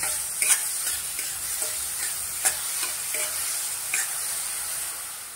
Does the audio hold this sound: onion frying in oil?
yes